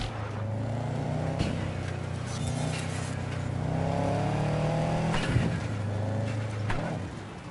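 A car engine drones steadily and revs up and down while driving in Cyberpunk 2077, close and continuous, its pitch rising and falling with acceleration.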